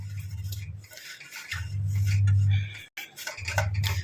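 Utensil scraping and stirring an ingredient roasting in a pan over a low flame, with soft rhythmic scrapes over a steady low hum that briefly cuts out, close up and without speech.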